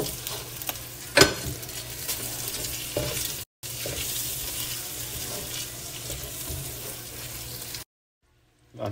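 Butter melting into hot bacon fat in a pan gives a steady, close sizzle with a sharp clatter near the start and a brief cut-out partway through, then stops abruptly into near silence before a faint return at the end.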